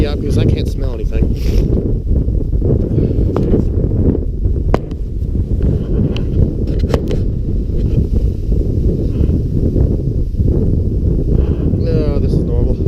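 Strong outdoor wind buffets the microphone in a loud continuous rumble, gusting unevenly throughout while someone talks now and then over it.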